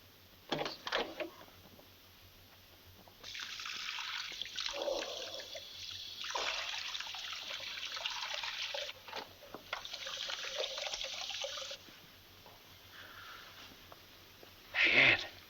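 A tap runs steadily for several seconds in a 1930s indoor setting, the water hissing in bursts with brief pauses between pours, fairly close, with small splashes and no talk over it.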